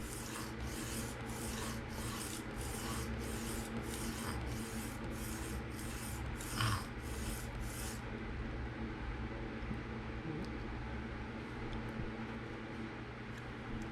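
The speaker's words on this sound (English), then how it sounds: "Refining that burr, refining that edge and that bevel even better, even finer" A Kunwu knife with a PM60 steel edge is sharpened freehand on a whetstone, its blade rasping in a steady rhythm of about a dozen even strokes, close and loud, then settling into a softer continuous rubbing hiss.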